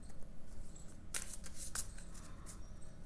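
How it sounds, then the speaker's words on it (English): A deck of tarot cards is shuffled close up, with quiet papery rustling and a few crisp riffling bursts in the middle of a calm, otherwise quiet room. "I don't know why I'm shuffling."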